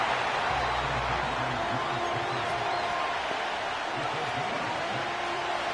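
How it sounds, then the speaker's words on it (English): Loud, steady crowd roar fills a football stadium during a game, a dense wash of noise running throughout with no break. "The noise very loud from the crowd."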